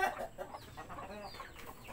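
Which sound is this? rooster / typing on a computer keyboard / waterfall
rooster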